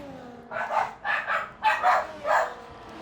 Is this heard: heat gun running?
no